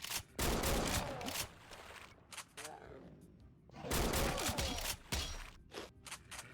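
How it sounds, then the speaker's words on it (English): Shotgun blasts from a first-person video game, heavy double shots booming in bursts with gaps between, loud and close, over a noisy game background with no one talking. "this shotgun fires 2 shots at a time"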